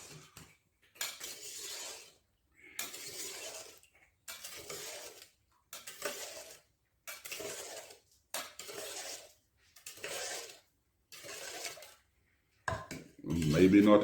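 A spoon scrapes and swirls through fruit wine must in a pot as sugar is stirred in, in regular bursts of scraping separated by short pauses, close and fairly clear with no talking.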